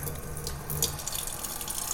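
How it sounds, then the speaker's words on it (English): Tap water pours into a large cooking pot at a kitchen sink, a steady close rushing stream with light splashes, soft and continuous for a couple of seconds. "fill it up"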